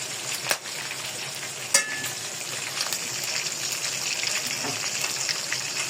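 Chicken and potatoes fry in a pan with a steady, soft crackling sizzle, punctuated by a couple of sharp pops and spatters, close and continuous.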